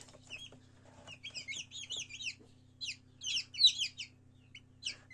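Chicks just hatched from an incubator peep and cheep in bursts of high, chirping calls over a steady low hum, close by with brief pauses between flurries.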